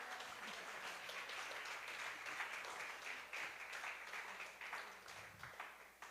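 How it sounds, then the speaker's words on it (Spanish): Church congregation applauding after the pastor's call, a faint, steady wash of clapping that runs throughout without a break. "¿Cuánto es un aplauso al Señor?"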